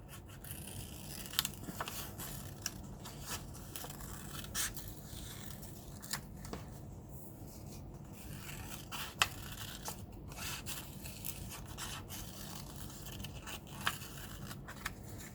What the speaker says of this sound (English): Then I'm going to cut out my perfect apple.